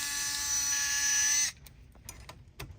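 An electric screwdriver whirs steadily while backing screws out of a fuser bracket on a Xerox 78xx printer, then cuts off, leaving a few light clicks and taps of parts being handled.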